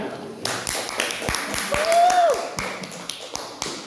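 Schoolchildren in a classroom clap their hands for a group's presentation, giving a handful of sharp, separate claps near the microphone while a voice speaks and a short whistle-like tone rises briefly.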